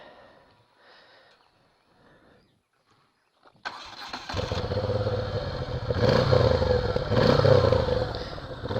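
A motor scooter engine cranks and catches after a few seconds of quiet background talk, then runs at a loud, steady idle with a couple of revving swells, recorded close by.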